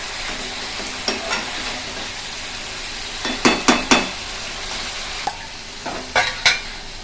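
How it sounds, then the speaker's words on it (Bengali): Chicken kosha masala stir-fried in a pan sizzles steadily under repeated sharp metal scrapes and clanks of a spatula, coming in quick clusters. "ভালো করে কষাবো, কষতে কষতে প্রায় হয়ে আসবে।"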